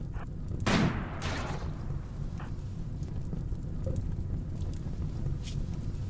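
Gunfire from a RimWorld skirmish: a brief crack of shots near the start, followed by a few faint, scattered pops over a steady low background rumble.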